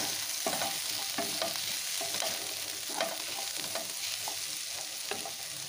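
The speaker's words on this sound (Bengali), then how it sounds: "টমেটোটাও আলু পেঁয়াজের সাথে একটু ভেজে নেব।" Chopped tomato frying with potato and onion in a pan, a continuous close sizzle punctuated by regular spatula scrapes and stirring knocks, no speech.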